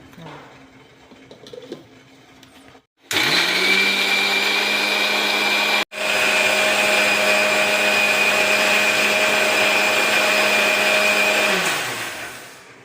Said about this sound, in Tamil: மிக்சி அதில் போட்டு இதை அரைச்சிடுவாங்க